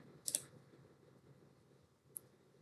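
A couple of quick, faint computer mouse clicks near the start and a single soft click near the end, while a schematic is opened in FPGA design software, with a quiet room hum beneath and no speech.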